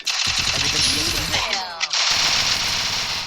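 Rapid automatic MP40 gunfire in the Free Fire mobile game, a fast close burst of synthetic shots lasting about two seconds, followed by a game sound effect.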